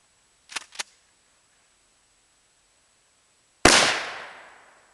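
A 12 gauge shotgun fires a single slug or buckshot blast at a vacuum cleaner, one sharp loud report with a decaying tail, preceded by two brief faint clicks.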